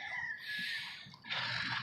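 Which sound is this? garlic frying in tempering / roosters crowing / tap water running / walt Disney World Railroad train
roosters crowing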